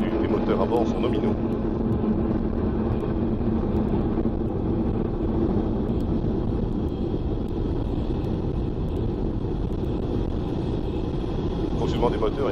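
Soyuz rocket engines roar in a loud, continuous rumble throughout launch, with a voice speaking in French over the thunderous noise.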